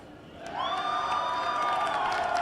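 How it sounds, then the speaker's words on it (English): Home crowd at a girls' high school soccer match applauding and cheering before kickoff, a broad steady roar of clapping and shouts swelling after a quieter start and holding at a distant, even level. "Get one last round of applause from the home crowd"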